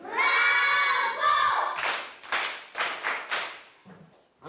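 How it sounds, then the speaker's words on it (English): A voice rings out, then a group of people clap hands in unison: about five sharp, evenly spaced bursts, close and fairly loud, fading at the end. "Très bien, on applaudit."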